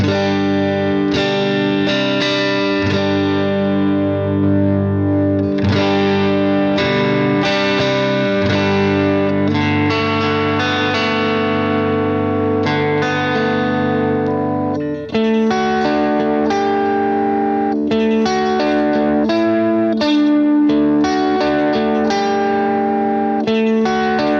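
Electric guitar with a warm tone saturated by a retro reel tape effect on an HX Stomp, playing sustained chords and melodic lines with reverb, loud and up close, no talking.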